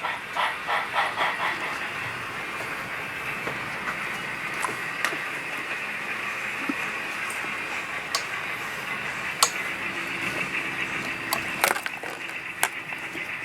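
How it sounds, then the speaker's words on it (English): Model train running on a Great Northern layout main line, a steady rolling hiss and rail clatter with repeated light ticks and clicks throughout, moderately close with no talk. "Train from Billings to Havre should be going through on the main line."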